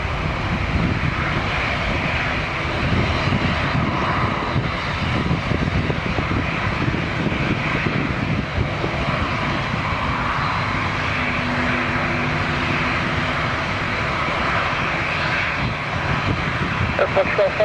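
An ORBEST Airbus A330 takes off at Lisbon airport, its jet engines giving a steady, loud, broad roar that holds throughout, with faint air traffic radio chatter underneath.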